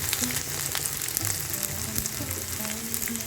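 Dried red chili, a whole bay leaf, five-spice seeds and chopped ginger sizzle in hot oil in a pan, a steady close crackle with little pops and occasional stirring.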